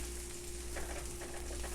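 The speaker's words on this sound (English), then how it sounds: "Nice and sizzling." Sweet potato and garlic sizzle in a pan, a steady soft crackling fry with faint popping, fairly quiet and continuous throughout.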